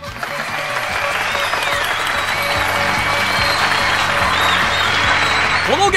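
Applause in the visual novel Hoshi Ori Yume Mirai as a couples' game is announced, a dense steady clapping sound effect over faint background music, swelling slightly and holding loud to the end.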